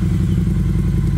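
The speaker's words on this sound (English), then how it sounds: "This is the battery at its just teetering limit of a failure, obviously, to start the bike." A motorcycle on a weak battery cranks without starting, making a loud, steady, low clattering churn up close.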